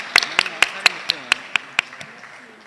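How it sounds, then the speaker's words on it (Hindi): Sharp, evenly spaced claps ring out about eight times in a quick rhythm, then fade, as an audience welcomes guests to the stage at a school naat competition in Gujranwala. "आप सबकी भरपूर तालियों में"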